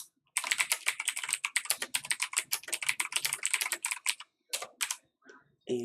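Fast typing on a computer keyboard, a close, dense run of crisp key clicks that thins to a few scattered taps toward the end.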